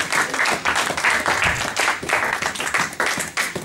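A church congregation claps and applauds together in a dense, continuous wash of hand claps, loud and close, with a few voices blending in.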